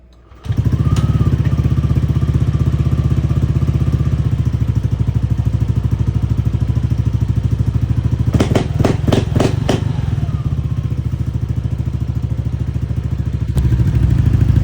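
Motorcycle fitted with a CWORKS air filter, aftermarket pipe and mags, starts up then idles loudly and steadily nearby, with a short burst of revving partway through.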